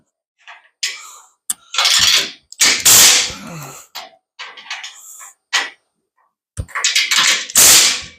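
Bolts being tightened while assembling a VEVOR 800 lb steel welding table, heard as close, loud bursts of ratcheting and mechanical clicking separated by short pauses, with no talking.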